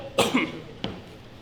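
A close, fairly quiet cough after a hit of a cigarette: one sharp double hack followed by a smaller cough a moment later, then quiet.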